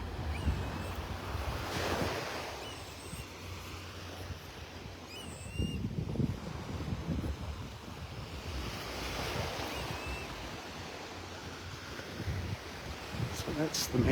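Surf breaks and washes along a beach in North Naples, Florida, a steady rolling roar with swells of louder waves, mixed with gusts of wind buffeting the microphone.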